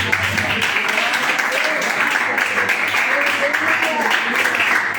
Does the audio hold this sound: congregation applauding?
yes